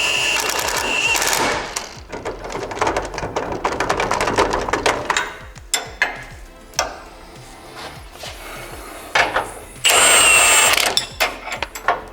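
Power tool bolting a wheel onto a salvaged car, loud bursts of rapid impact-style rattling followed by shorter repeated buzzes and pauses, close by, with no talk.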